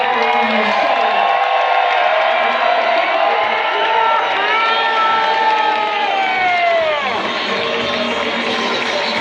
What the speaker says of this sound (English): Please give yourselves and the police one more giant round of applause.